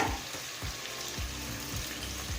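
About 350 grams of salted chicken sauté in a pressure cooker for Ambur biryani: a quiet sizzle broken by regular spoon scrapes roughly every half second, with no one talking.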